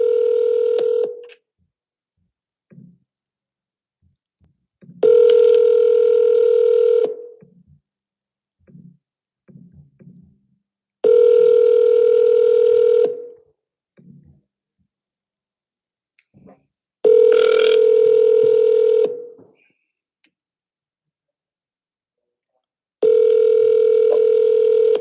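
Repeated telephone dial tones while calling for-sale-by-owner home sellers: five long steady tones of about two seconds each, spaced evenly, with faint clicks and brief keypad sounds in the gaps between them.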